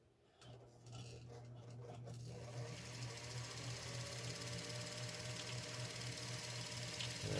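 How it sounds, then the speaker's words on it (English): A Montgomery Ward Signature sewing machine spins up to wind a bobbin, settling into a steady low motor whir with light mechanical rattle, fairly quiet and running without voices. "The bobbin's winding a little bit to one side"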